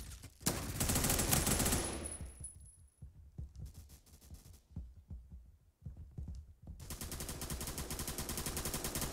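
Gunfire in the online shooter Phantom Forces, with dense bursts of shots at the start, scattered single cracks and short volleys through the middle, then sustained rapid automatic fire to the end, loud and close.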